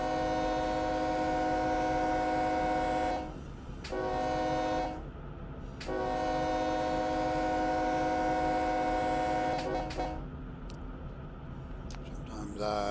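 A freight locomotive sounds its horn at a whistle post in a long sequence of loud, sustained blasts broken by short gaps. Heavy rail rumble and cab noise run underneath, and a voice speaks quietly in the cab.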